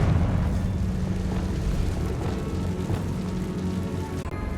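A Confringo blasting spell explodes in Hogwarts Legacy with a loud, sustained rumbling roar and crackling burst that holds steady for several seconds, with no voices over it.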